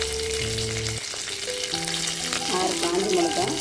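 Mustard seeds and curry leaves frying in hot oil for rasam, a continuous close sizzle and crackle with no speech, under quiet background tones.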